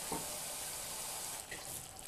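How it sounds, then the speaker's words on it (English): Water is poured from a container into a bubbling seafood curry as it simmers in the pan, making a steady, close-up splashing hiss over the gentle sizzle of the cooking. "I'm just adding in some more water because I don't want it too thick"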